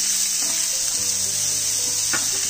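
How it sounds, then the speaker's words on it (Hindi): Onions sautéing over a high flame for fried rice, a steady, loud hiss of frying that runs the whole time, with a few faint stirring knocks. "अब हम साथ में ही अनियन भी डाल देंगे। 1 मिनट तक इसको भी तेज आंच पे पकाएंगे।"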